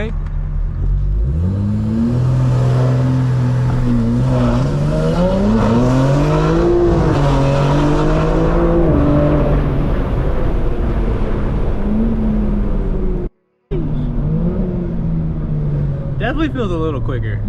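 A BMW M4 fitted with downpipes launches and accelerates hard, its loud, close engine note winding up steadily through rising revs, with a brief cut-out near the end before the engine noise resumes.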